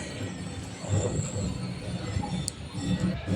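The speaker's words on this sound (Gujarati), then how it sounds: "હવે જાય છે અહીંયાથી ટ્રેન" A train passes close by in an open rural setting near the Jamjodhpur market yard in Gujarat, its rumbling wagons forming a steady, continuous low roar throughout with a brief high squeal of wheels partway through.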